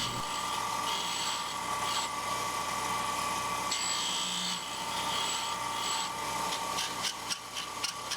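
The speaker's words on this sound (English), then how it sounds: "And now over to a grinder. This is where he's adjusting those new valve lengths, making them the proper length." Steady, continuous grinding of new engine valves to length on a grinder during a machine-shop LS 5.3L engine build, a dense rasping whine that holds throughout, with a few sharper scraping bursts near the end.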